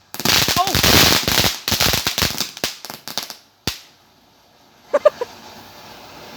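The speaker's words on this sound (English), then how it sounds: "You can see the bottom, it exploded double." A firework goes off outdoors with a long stretch of crackling and popping bursts, then sharp pops fade to quiet. Two distinct, distant-sounding bangs follow close together near the end.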